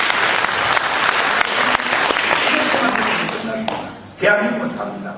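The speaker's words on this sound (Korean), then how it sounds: "박수 한번." Audience applause at a church rally in a hotel hall, a dense, loud burst of clapping filling most of the moment before it fades and a voice cuts in near the end.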